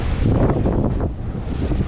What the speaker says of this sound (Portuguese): para parar um pouco do vento, que tá ventando muito